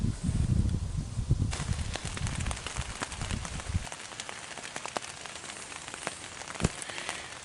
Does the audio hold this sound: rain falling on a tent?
yes